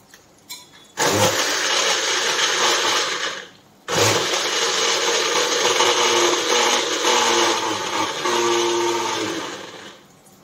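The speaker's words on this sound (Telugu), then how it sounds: "ముందు మిక్సీ వేసుకుందాం" A kitchen mixer grinder blending tomatoes and green chillies, a loud harsh whirring roar in two bursts, the first about three seconds long and the second running about six seconds, close and without talk.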